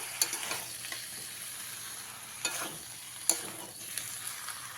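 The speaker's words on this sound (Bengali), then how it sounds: "এর মধ্যে দিয়ে দিতে হবে ভেজে রাখা চিংড়ি মাছগুলো দিয়ে আবারও খুব ভালো করে মিশিয়ে নেব" Fried prawns being stirred into a jackfruit curry in a pan, with soft scraping strokes of the spoon and a low sizzle recurring every second or so, quiet and close, no talking.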